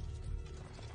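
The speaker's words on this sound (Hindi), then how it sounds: "घोड़े में आ रहा हूँ, चल जल्दी चलना अपने को." A horse gallops in Assassin's Creed 2, its hoofbeats quiet and steady with a low rumble throughout the brief moment.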